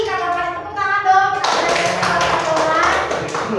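Hands clap in a classroom, a burst of brisk group clapping after about a second and a half that keeps going to the end, following a short stretch of voices.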